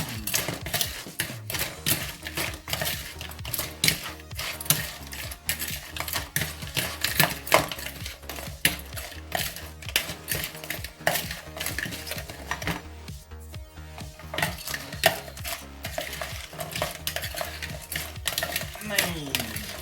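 Spicy crab salad with chili, shallots and coriander gets tossed and stirred in a bowl. Busy, rapid clinking and clattering of utensils continues throughout, close and fairly loud, with a voice speaking briefly.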